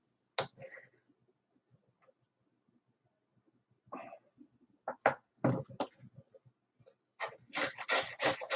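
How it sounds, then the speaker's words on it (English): Carrot grated by hand, with scattered rasping strokes at first, then a denser run of rough scraping bursts that grows louder toward the end, close and alone. "you're going to enjoy watching me grate carrots"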